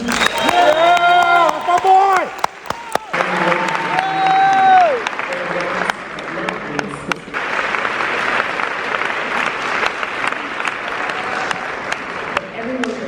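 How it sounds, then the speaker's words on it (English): An audience at a medical school ceremony applauds the graduating class, steady crowd clapping throughout, with a voice speaking over the first seconds and a few cheers. "Everyone, please join me in one more round of applause for our class of"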